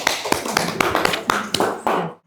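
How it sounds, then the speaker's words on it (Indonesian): Classroom of students at a microteaching session clapping for a group, a quick patter of sharp, closely spaced claps at close range that stops abruptly. "tepuk tangan untuk grup A"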